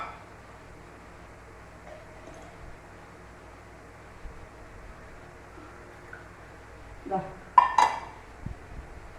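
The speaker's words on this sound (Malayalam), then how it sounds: "കുറച്ച് ഈ കുപ്പിയിലേക്ക് ഒഴിച്ചിട്ട് കുപ്പി പൊട്ടുമോ?" Hot homemade hair oil pouring into a glass bottle, with a quiet low rustle that gives way near the end to a few brief clinks and a short liquid splash.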